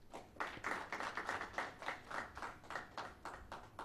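Audience applause at a national human rights conference in Uganda, a steady, moderately distant patter of many hands clapping together, sustained throughout with no speech.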